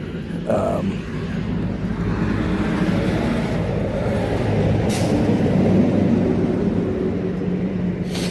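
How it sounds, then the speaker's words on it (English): A truck passes close by in a steady, loud rumble lasting several seconds, its engine drone swelling slightly toward the middle before easing off, with a brief hiss of air near the end. "I was waiting for the truck to go by"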